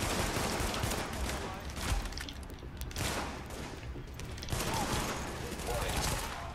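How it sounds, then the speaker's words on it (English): Pistol shots sound in the shooter game The Division, a few loud reports about a second apart over a dense, noisy game soundscape, with a voice talking at times. "I'll take you out with a pistol, that's it."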